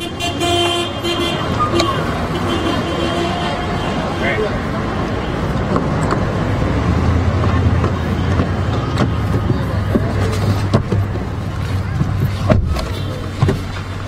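Car driving through city streets, heard from inside the cabin: a steady low engine and road rumble runs throughout, with occasional faint bumps and clicks and muffled voices talking underneath.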